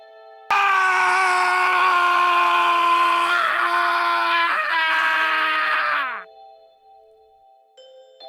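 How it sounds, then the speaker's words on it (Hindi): A loud, sustained scream in a Hindi horror story recording, a long wailing cry with a harsh tonal edge that holds for several seconds, wavers, then cuts off abruptly into near silence. "फिर अचानक जोरदार चीख सुनाई दी।"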